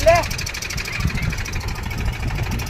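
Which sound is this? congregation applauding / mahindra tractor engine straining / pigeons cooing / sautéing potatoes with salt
mahindra tractor engine straining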